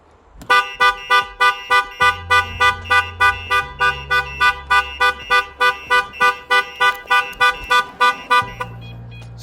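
A Range Rover SVR car alarm blaring loud and close, rapid regular pulsing tones repeating about twice a second, with an idling engine underneath.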